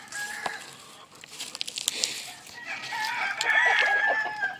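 A Gull Cross gamecock crows loudly and close, with clucking and other fowl calls around it, a second long crow rising near the end.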